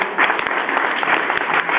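An audience gives a round of applause after a live blues music performance: brisk, closely packed clapping that stays even and fairly loud across the short stretch.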